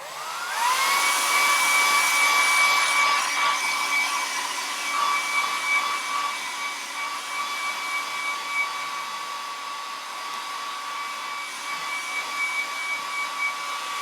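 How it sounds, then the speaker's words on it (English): A hair dryer blows steadily and loudly nearby, drying watercolour paint on hand-painted cards, its whine holding a constant pitch after starting up, with no other sounds over it. "I'm just going to get the hairdryer on these here now so they dry a bit."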